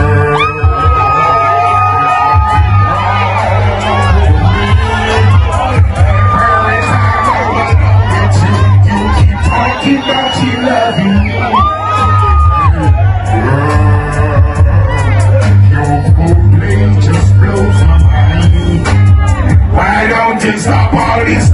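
Dense, loud crowd noise at a dancehall concert, with sustained screaming, whoops and cheering layered over a heavy bass beat throughout, voices blending into one continuous roar.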